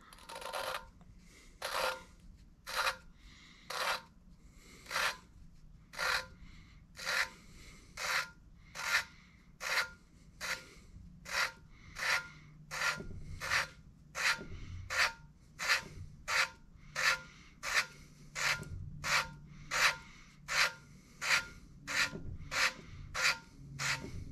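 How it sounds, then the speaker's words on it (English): An engine valve is turned back and forth against its seat in a cylinder head, giving a regular series of about thirty short, dry scraping rasps, close and fairly quiet, evenly spaced without talk. "grabbing the stem with the other finger and just rotating the valve, turning it around"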